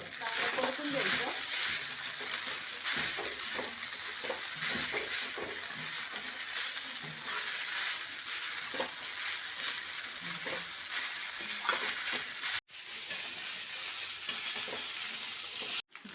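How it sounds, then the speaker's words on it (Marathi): Jeera rice with salt sautéed and stirred in a home kitchen pan, a continuous soft sizzle broken by repeated scraping stirs of a spoon, fairly close, with a couple of abrupt cuts near the end. "चवीपुरतं मीठ टाकायचं. चांगलं परतून घ्यायचं."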